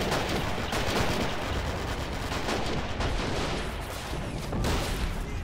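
Dense, continuous gunfire from a Stalingrad battle in a video game, with machine guns and rifles firing together in a steady, loud barrage that carries no clear gaps across the whole stretch.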